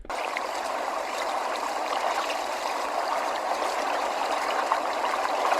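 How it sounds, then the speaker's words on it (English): A Mudita Harmony alarm clock plays its bubbling brook nature sound: a continuous, even wash of trickling, gurgling water that holds steady at moderate loudness throughout, with no talk. "Let's try bubbling brook."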